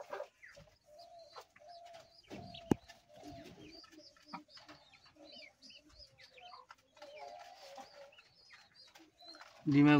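Pigeons on a pigeon farm coo softly and repeatedly in low, throaty bursts, close by, with faint clucking and rustling between calls and a louder thump at the very end.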